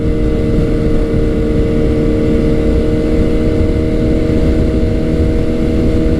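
A Kawasaki Z900 motorcycle is ridden at a steady cruise, its engine droning continuously and loudly, blended with wind rush for the whole stretch, with no voices.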